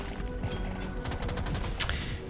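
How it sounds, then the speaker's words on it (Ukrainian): Rapid bursts of submachine gun fire from the Saturday weapon in the video game Deep Rock Galactic: Survivor crackle quickly, mixed with game effects. "З кожного пістолета можна зробити свій пістолет-кулемет, який буде вбивати всіх підряд."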